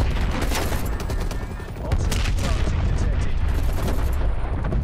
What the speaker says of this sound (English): Danger close. Artillery.